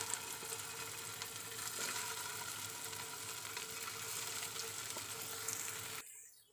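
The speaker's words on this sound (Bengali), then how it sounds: "এখন আমি এগুলো তেলে ভেজে নেব।" Puffed rice pakoras fry on low heat in hot oil in a wok, making a soft, even sizzle with faint crackles that stops abruptly near the end.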